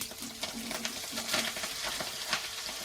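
Fenugreek greens and diced eggplant hit hot tempering oil in a pan and sizzle steadily, with crackling pops and some stirring throughout and no voices.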